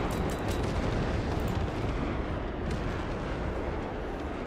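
Flak anti-aircraft fire in a naval battle video game with Thunderbolt planes, heard as a dense, continuous rumble of overlapping booming bursts, loud and close throughout.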